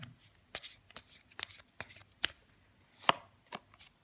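Tarot cards being shuffled and drawn by hand, a run of quick crisp riffling snaps and soft slaps at uneven intervals, close and fairly quiet with no talking.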